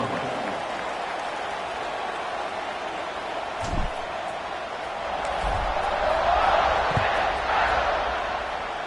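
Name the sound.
crowd noise at kickoff in College Football 26 video game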